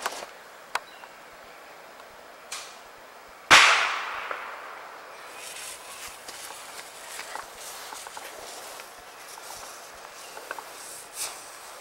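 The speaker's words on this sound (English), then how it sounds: "We're gonna do fireworks!" A single loud firecracker bang goes off outdoors, followed by crackling and sizzling with scattered small pops and rustling, amid faint background activity.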